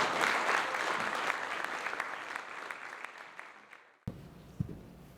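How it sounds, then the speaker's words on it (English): A panel discussion audience gives a round of applause at an evening Middle East policy event, steady clapping from the crowd that fades over several seconds before a brief pause and a few faint knocks. "Please give a round of applause for our panel."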